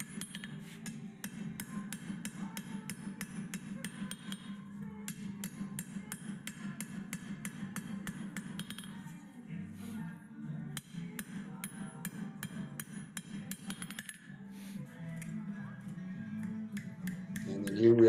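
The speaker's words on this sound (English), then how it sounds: "just little glancing blows. Just keep feeding it out and hitting it a little harder as you go." Rapid, steady hammer blows glance off metal being fed out on an anvil during metalwork, a continuous ringing patter of light strikes that hardly pauses and grows slightly harder toward the end.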